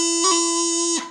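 A bagpipe sounds a steady sustained note, broken briefly near the start by a quick half double E grace-note embellishment, then holds the tone alone before cutting off.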